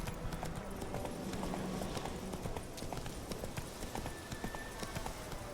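Roach, Geralt's horse in The Witcher, clip-clops steadily along at a trot, a rhythmic run of hoofbeats over a dense outdoor game ambience with no talk.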